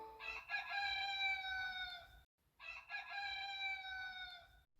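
A rooster crows twice at dawn, each long cock-a-doodle-doo call clear and fairly close, separated by a short pause, with no talk over it.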